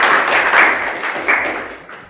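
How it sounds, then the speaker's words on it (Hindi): An audience at a welcome ceremony for a new district panchayat CEO claps together, a dense, loud burst of applause that swells and fades over a couple of seconds. "इस बात पर आप सब लोग ताली बजाइए।"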